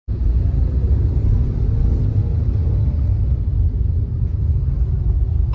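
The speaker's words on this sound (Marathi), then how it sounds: "असं ट्रॅफिक पूर्ण रस्त्याला लागलेलं आहे" Road traffic stands in a jam, heard as a steady, loud low rumble of idling vehicles with no clear passing cars or horns.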